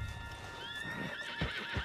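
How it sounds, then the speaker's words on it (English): A horse whinnies with a rising, wavering neigh in Red Dead Redemption 2, followed by a couple of heavy hoof thuds, close and clear over a low background. "On the back of John's horse"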